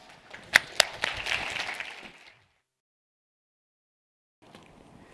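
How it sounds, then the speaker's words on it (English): A conference audience applauds an award presentation at Kintone Connect 2018 with a loud, dense burst of clapping that lasts about two seconds and then cuts to silence, followed by faint room noise. "Please give a round of applause."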